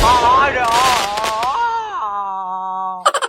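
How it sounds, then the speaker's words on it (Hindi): A Diwali firecracker goes off in a quick burst of sharp, loud cracks at the very end, after a long wavering, groaning tonal sound. "चटनी, आग लगा जल्दी"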